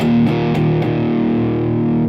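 An electric guitar played through a Maxon overdrive pedal into a driven amp channel rings out as loud, sustained distorted chords with a few quick strums near the start.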